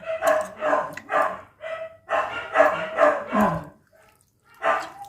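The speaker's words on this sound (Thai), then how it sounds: "ทุกบ้านเลยค่ะเห่า" Dogs bark in quick, loud bursts, about eight in a row with a short gap partway, then a brief silence before one more bark.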